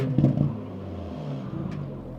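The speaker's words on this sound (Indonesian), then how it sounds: "Mungkin ini suara langsung dari bagian belakangnya seperti ini." Exhaust of a 2023 Porsche Panamera 4 E-Hybrid heard from the rear as the engine revs at modest RPM: a deep rumble with a brief surge at the start, then an even drone, close by.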